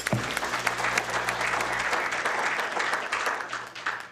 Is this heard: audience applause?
yes